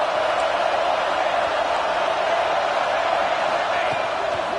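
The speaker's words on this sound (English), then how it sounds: "The crowd getting behind this defense as they try to get a stop in the red zone." A football stadium crowd roars steadily for the defense during a South Carolina versus Texas A&M game, a dense, sustained wash of cheering and shouting that stays loud and unbroken.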